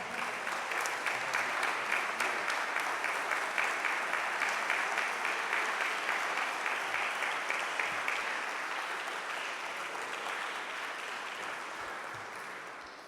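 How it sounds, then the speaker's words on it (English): Steady, dense applause from a congregation at a mosque welcoming a student minister, many hands clapping together at an even volume before gradually tapering off. "Please greet him with a round of applause."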